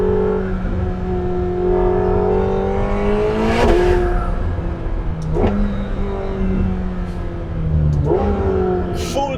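A McLaren 750S sports car accelerates hard through the gears, loud and close. Its engine note climbs, dips at each shift, and is punctuated by sharp exhaust pops.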